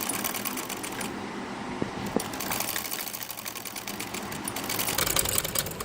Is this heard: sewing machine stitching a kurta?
yes